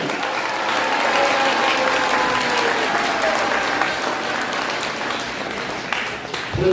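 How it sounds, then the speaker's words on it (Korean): A large audience at a Korean political education meeting gives a pastor a loud, sustained round of applause, dense clapping running steadily throughout and thinning slightly near the end. "우리 전광훈 목사님을 위해서 큰 박수 한번 해주시기 바랍니다"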